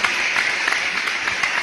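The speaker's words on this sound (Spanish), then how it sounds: "Aplauso." A live studio audience at an anniversary celebration claps in a short, steady burst of many hands, even and continuous with no talk over it.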